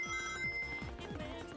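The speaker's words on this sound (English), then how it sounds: "And there's my stupid phone going off." A mobile phone rings with a repeating electronic tone under video game music, the ringtone fairly quiet and steady throughout.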